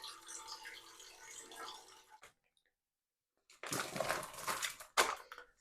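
Water pours into a brewing pot on a gas burner for a stout, about 2.5 litres, a soft rushing splash heard in two stretches separated by a short silence.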